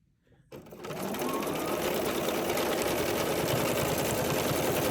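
A sewing machine starts up after a moment of quiet and then runs steadily and loudly at high speed, stitching a seam all the way around the edge of fabric for a crossbody bag.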